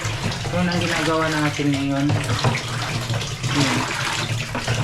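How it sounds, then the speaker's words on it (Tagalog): Water is poured into a container in a Filipino home, a continuous splashing gush that runs close and loud with a person speaking over it. "Lagyan ko din ng tubig."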